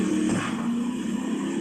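A car in the video game Brick Rigs, an overpowered vehicle lined up for a drag race, holds a steady engine drone that hums on without break, loud and alone.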